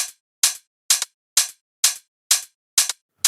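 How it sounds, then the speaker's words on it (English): Eight crisp, bright electronic hi-hat hits in a steady, evenly spaced tech house pattern, each short and sizzling, played alone. "Then we have this fourth hat that plays this pattern."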